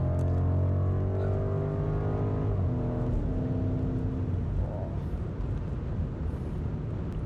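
BMW Alpina B5 Biturbo with automatic transmission pulling under throttle: a loud, steady engine drone with rising harmonic tones from inside the car, shifting pitch briefly midway and continuing without pause.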